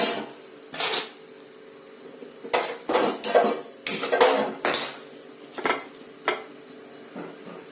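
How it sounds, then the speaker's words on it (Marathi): Onion and coconut being dry-roasted in a pan for paneer bhurji, heard as a series of loud metallic spatula scrapes and clanks against the pan in irregular bursts over a quiet background. "आता आपण कांदा आणि खोबरं भाजूया।"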